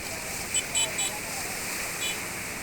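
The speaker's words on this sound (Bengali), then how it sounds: "ছোট ছোট ঢেউগুলো" Small sea waves wash onto the shore of Kuakata sea beach at dusk, a steady broadband rush with a few brief sharper splashes, heard alone without talk.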